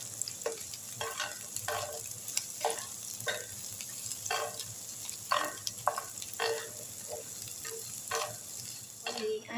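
Chicken with broccoli stems and green chili fries in a pan and is stirred, a soft continuous sizzle broken by repeated close scraping stir strokes at an uneven rhythm.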